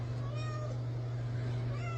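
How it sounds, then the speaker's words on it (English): A female cat crying out for a mate in the middle of the night, a steady low drawn-out yowl that holds throughout, close and fairly loud over a constant hum. "listening to her crying out for a male cat to mate with in the middle of the night"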